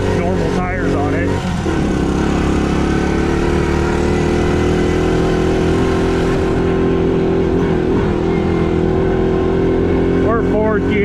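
A 1970 Honda ATC US90 three-wheeler, an original barn find, rides over rutted ground in fourth gear near its top speed, its small engine droning loud and steady throughout.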